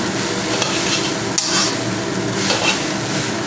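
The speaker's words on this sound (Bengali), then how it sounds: "তো ভালো করে একটু নাড়াচাড়া করে নিলাম" Chowmein ingredients being stirred with spice powder in a pan, giving a steady, continuous scraping and rustling with a few sharper knocks against the pan, close and moderately loud, with no talking.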